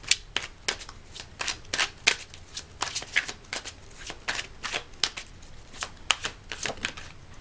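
Tarot cards are shuffled by hand in quick, crisp riffling bursts, close and fairly quiet, repeating steadily throughout with brief gaps between passes.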